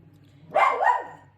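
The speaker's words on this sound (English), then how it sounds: "And the dog is barking." A dog barks once or twice in a quick double burst, fairly close and loud, with quiet background hum before and after.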